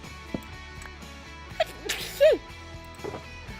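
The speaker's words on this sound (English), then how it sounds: "I need to sneeze." A quick, fairly quiet sneeze, close by, amid faint background sounds and a few soft clicks.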